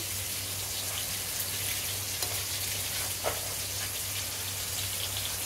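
Spice paste frying in a pan with ground coriander for a Bengali small-shrimp and Malabar spinach chhochori: a low, steady sizzle runs throughout, with a few faint stirring clicks and no voices.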